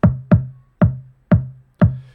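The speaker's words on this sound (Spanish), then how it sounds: "La señal distorsionada con Devastor suena así," Five punchy kick drum hits distorted with Devastor, each with a sharp click attack and a boomy mid-bass tail, evenly spaced about half a second apart and played alone without any voice.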